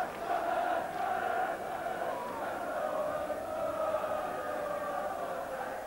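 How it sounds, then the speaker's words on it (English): Football fans at Sunderland v Liverpool in 1980 sing a terrace chant together, a distant, sustained massed singing that carries steadily through the ground at modest volume. "The crowd singing that you only sing when you're losing."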